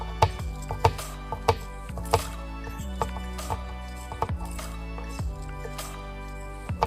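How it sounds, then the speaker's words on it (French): Three garlic cloves are minced with a knife on a cutting board, giving a steady run of sharp, close knocks in quick irregular rhythm, with no voice over them. "Nous allons aussi émincer l'ail, nos 3 gousses d'ail."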